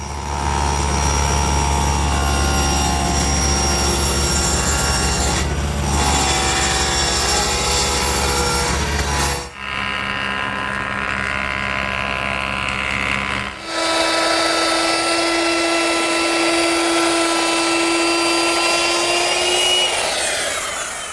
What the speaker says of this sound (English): I'll do that at the table saw.